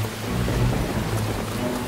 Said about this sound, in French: Le vent a commencé à souffler comme s'il était poursuivi par les démons.